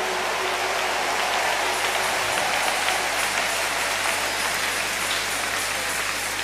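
A church congregation applauds during a Holy Ghost service, a loud, dense wash of clapping that holds steady for several seconds without pause.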